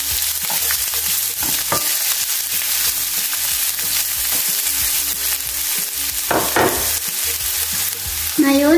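Onion sizzles in a pan for vegetable spring rolls, loud steady frying with repeated spatula scrapes and clacks against the pan, a brief metallic ring near the end, no talking.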